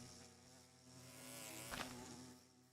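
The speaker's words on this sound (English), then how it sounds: "There seems to be bees." Angry bees from a kicked hive in Minecraft, a steady faint buzzing drone throughout with a brief louder swell near the middle.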